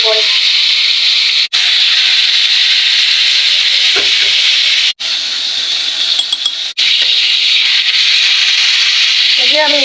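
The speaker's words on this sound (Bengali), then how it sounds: "আমি সবগুলো চিকেন দিয়ে দিলাম, খুব সুন্দর করে ভাজা হচ্ছে" Marinated chicken pieces fry in a pan with a steady, loud hiss and sizzle that runs throughout, broken by a few brief gaps and faint clinks.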